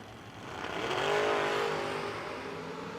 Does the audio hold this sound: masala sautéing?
no